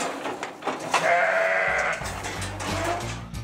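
A ewe on a French farm bleats loudly and close by in one long, wavering cry, with farmyard noise and low rumbling in the background.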